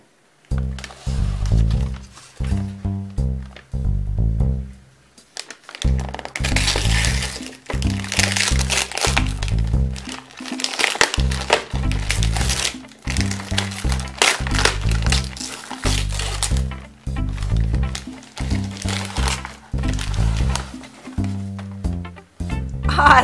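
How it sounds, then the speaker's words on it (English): Blue polka dot wrapping paper being torn and crinkled off a toy present, loud crackling and rustling bursts over a bouncy music bed, with occasional talking. "Our present is wrapped with blue polka dot wrapping paper. Let's open it up."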